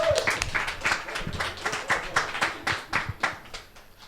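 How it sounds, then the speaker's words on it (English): Audience applause and clapping for election candidates returning to the stage at a student union question time, rhythmic bursts of hand claps with a voice or two talking over them. "let's give a round of applause to our candidates as they come back on stage."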